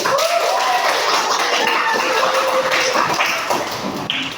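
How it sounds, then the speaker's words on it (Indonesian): Classroom applause from junior high students after a group's work is praised, steady dense clapping filling the room throughout with no clear speech over it. "Kasih tepuk tangan dulu."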